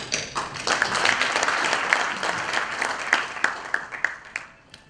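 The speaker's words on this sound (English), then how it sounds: "I'd like to applause the Professor Omar Billier." An audience applauds after a conference presentation, with dense, steady clapping that thins into a few scattered, louder claps toward the end.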